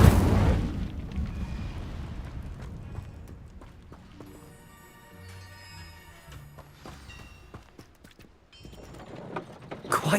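A fire spell cast in a fantasy video game gives a loud whooshing burst at the start, which fades into a low game soundscape with tonal effects before another loud burst near the end.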